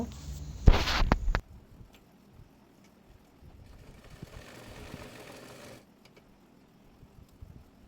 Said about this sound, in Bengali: এরপর মোহরির ডিজাইনটি সেলাই করে নেব